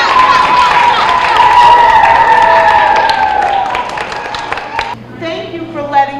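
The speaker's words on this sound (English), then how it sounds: "Let's have a round of applause for our judges today." A round of applause from schoolchildren for the judges at a school savings program event, with fairly loud clapping and cheering under a sustained tonal sound that fades near the end, followed by a brief stretch of voices.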